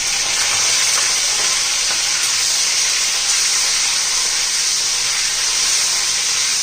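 Washed brinjal pieces frying in hot oil seasoned with cumin, mustard seeds and asafoetida, giving a loud, steady broadband sizzle and hiss that runs unbroken with no talk over it.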